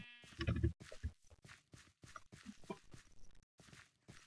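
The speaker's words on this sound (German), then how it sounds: "Da sind schon mal drei Schafe unterwegs." Sheep in the video game Minecraft bleat, one loud bleat opening a string of short game sounds and soft footsteps, heard close and clean without talk.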